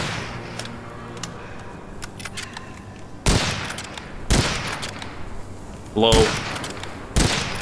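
Gunfire in the video game Witchfire: a few sharp, loud shots ring out at irregular intervals over a low background rumble, with a voice speaking briefly between them.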